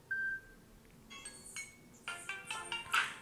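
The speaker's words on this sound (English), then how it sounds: "Then there's a lot of ringtones that you can set." A phone ringtone preview plays from a handset's ringtone settings list: a short bright tone at first, then several chiming melodic snippets in quick succession, fairly faint and with no talk over them.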